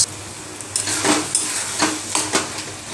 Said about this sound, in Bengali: তারপরে পাতাগুলো দিয়ে ভাজা করছি